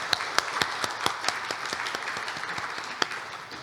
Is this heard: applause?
yes